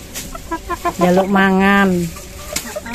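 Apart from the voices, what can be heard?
Bangkok fighting chicken clucking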